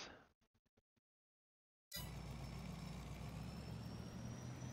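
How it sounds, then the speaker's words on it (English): Truck engine in Farming Simulator 22 on an Allis Chalmers farm map, a steady loud low rumble that starts abruptly after a few short clicks and a second of silence, then runs evenly to the end. "Tell me if this truck's too loud and you guys need me to turn the vehicle sound down."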